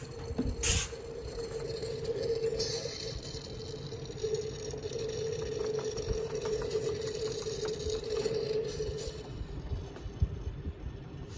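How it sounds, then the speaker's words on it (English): A Mighty-Vac fluid extractor draws coolant out of a radiator on a car with a suspected leaking head gasket, giving a steady low mechanical hum with a faint sucking whine, close and continuous, broken by a few brief clicks. "what I'm doing now is using the Mighty-Vac fluid extractor, and that's just lowering, pulling the level down"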